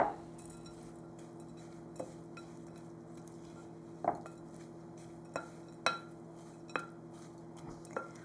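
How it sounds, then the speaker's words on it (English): Oatmeal with chopped medjool dates and toasted pecans being stirred in a pot, a series of soft spoon clinks and taps against the pot at irregular intervals over a faint steady hum, quiet and close. "We just need to stir that all together."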